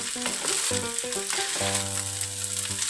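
Mixed vegetables and glass noodles with minced pork being slowly stir-fried in a pan give a bright continuous sizzle with soft stirring, partly covered by loud tonal background music.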